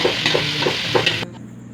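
Arroz valenciana being stirred in a pan, a few close scraping strokes of a spoon with a soft sizzle underneath, stopping abruptly near the end.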